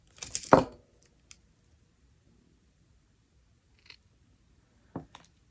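Scissors snip cord ends while making a turquoise charm necklace, one crisp close cut followed by a few faint, sparse clicks and snips in a quiet room.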